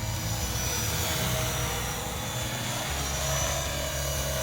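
A radio-controlled size 450 Bell 206 model helicopter with a manual gyro flies outdoors, giving a steady, continuous whirring rotor and motor drone that holds at an even level throughout, with no talk.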